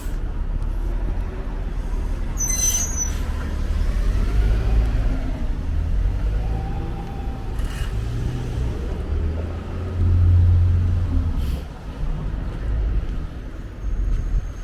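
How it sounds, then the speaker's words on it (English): A city bus idles and rumbles on a Brooklyn street near the Smith and 9th Street station, a steady low engine drone with a brief swell in revving, heard nearby amid street ambience. "the bus is waiting"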